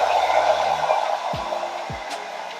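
A hair dryer on low heat blows steadily over a lace wig, a constant close whooshing hum that softens slightly toward the end, with a few low thumps of handling.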